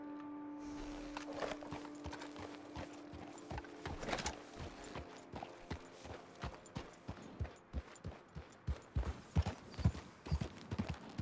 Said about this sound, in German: Wir lassen Lassie mal reiten.